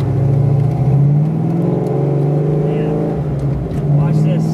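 Supercharged 1993 Ford Mustang Fox Body with a Flowmaster exhaust, heard from inside on a ride, its engine droning steadily and rising in pitch as it accelerates, loud and close, with voices talking over it.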